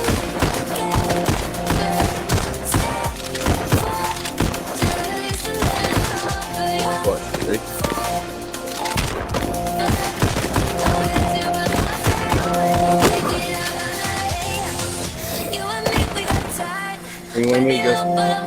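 Rapid gunfire in the VR rhythm shooter Pistol Whip: dense, steady volleys of sharp shots layered over a driving music track, loud and continuous throughout.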